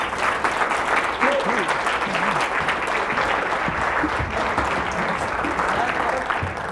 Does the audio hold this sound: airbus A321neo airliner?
no